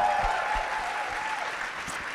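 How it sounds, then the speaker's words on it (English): Audience applause at a Stand With Women event in Pennsylvania, a steady, moderately loud patter of clapping filling the room throughout. "join me in just giving great kudos and applause"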